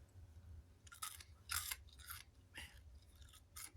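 Loud, crisp crunching of dry Captain Crunch cereal being chewed up close, five or six sharp bursts in an irregular rhythm over a low hum, with no speech.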